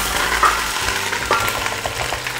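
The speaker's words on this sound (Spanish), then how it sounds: "Y moverlas un poquito con una cuchara de palo" Onions fry in hot oil in a pot and are pushed around with a wooden spoon: a continuous sizzle with soft knocks and scrapes of the spoon against the pot, close and fairly loud.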